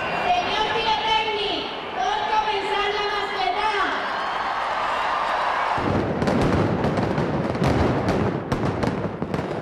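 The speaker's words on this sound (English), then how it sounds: "Valencia is famous for its fireworks displays." A deafening daytime fireworks display at the Valencia festival bursts into rapid, dense bangs and crackles after a stretch of crowd noise and voices, the barrage continuing loud and close.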